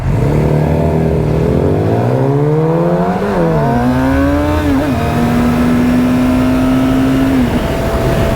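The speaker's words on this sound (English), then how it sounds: "it is race time. Bike versus Mini." Motorcycle and Mini car racing each other, heard as a loud engine accelerating up through the gears with rising whine and gear-change dips, then holding a steady high-revving drone, close and continuous.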